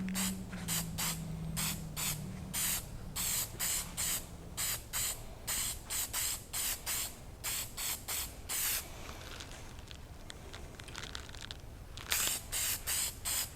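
Bright gold metallic spray paint hisses onto a bathroom towel bar in a quick series of short, even bursts, pausing briefly for a softer, continuous hiss before the rhythmic bursts resume.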